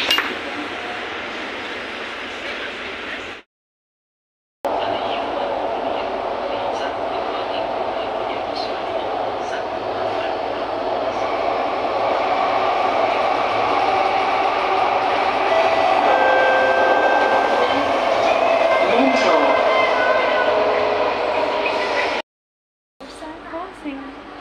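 Steady rumble and rattling of a Singapore MRT train in motion, with clinking and faint screeches, people talking under it, cut by two brief silences.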